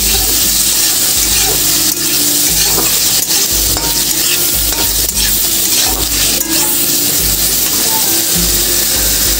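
Prawns fry in hot oil in a wok, a loud continuous crackling sizzle with occasional stirring scrapes throughout, close and steady.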